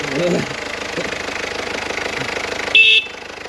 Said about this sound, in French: Oh, le klaxon il marche aussi.